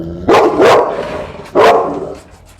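An adult dog barks three times, two quick loud barks followed by a single bark after a short pause, close by and clear with no talk.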